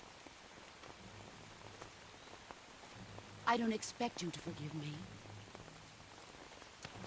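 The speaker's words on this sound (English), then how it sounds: "It's raining here." Steady rain falls in Metal Gear Solid 3: Snake Eater, a soft continuous patter under the whole stretch while someone speaks briefly in the middle.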